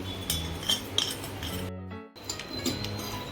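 Black pepper, cumin, ajwain and fennel dry-roasting in a pan with no oil, heard as continuous rattling and scraping with metallic clinks of a utensil stirring, briefly pausing near the middle.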